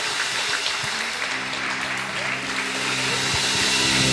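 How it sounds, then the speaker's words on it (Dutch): A congregation at a live church assembly applauds loudly and steadily in a dense wash of claps, with a sustained hum running beneath throughout. "Groot applaus."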